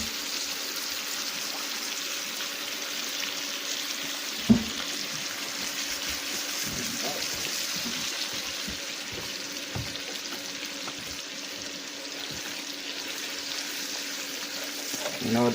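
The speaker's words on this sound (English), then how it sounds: "And wash my hands." Tap water runs in a steady, faint hiss while hands are washed, with a single sharp knock partway through and no talking.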